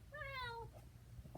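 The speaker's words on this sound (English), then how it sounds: "That's my cat." Buttercup, a pet cat, lets out a single clear, fairly close meow that rises and then falls, followed by a little faint rustling and no voices.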